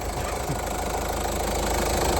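A car engine idles steadily just after an oil service, with a close, continuous mechanical rumble and slight knocking texture and no talk.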